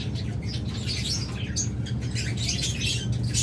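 A pair of violet opaline budgerigars chirping, a busy run of quick high tweets and chatter that continues throughout, close and fairly loud over a soft background hum.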